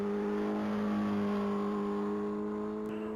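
A Suzuki Hayabusa motorcycle on a top speed run at a mile racing event holds a steady, strong engine whine with stable tones, sounding sustained and fairly distant, and no one speaks.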